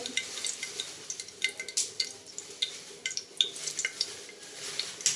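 Whole cinnamon, cloves and cardamom fry in hot oil in a pan with a light crackling sizzle, while a utensil scrapes and stirs in quick, uneven taps close by.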